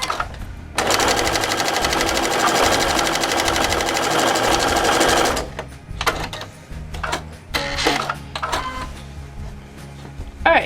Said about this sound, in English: So I'm going to go ahead and stitch that.